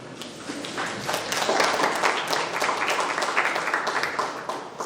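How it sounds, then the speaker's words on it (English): Steady, dense audience applause fills a conference hall for the sponsors and partners of a two-day innovation event, with broadband clapping sustained evenly for several seconds and no talk on top. "big round of applause to our sponsors and partners"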